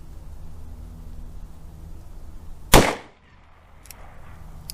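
A single sharp gunshot from a .45 Colt firing 230-grain Sig Sauer ammunition, loud and close, with a brief decaying echo, set against quiet outdoor background noise.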